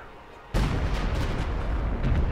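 Artillery fire in a WWII strategy game: after a quieter stretch, a single heavy boom erupts and rolls on as a dense, rumbling roar of shelling, loud and sustained to the end.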